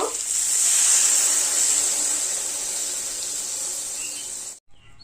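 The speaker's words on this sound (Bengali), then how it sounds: "এবার জল দিয়ে নেব।" Water poured into a hot pan of spiced masala and tangra fish for tel jhal curry, setting off a loud, steady hiss and sizzle of steam that fades slightly and then cuts off abruptly.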